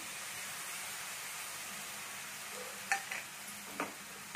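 Masala paste roasting in oil for Mughlai cauliflower masala: a steady, even frying hiss throughout, with a few brief stirring scrapes near the end, no voices.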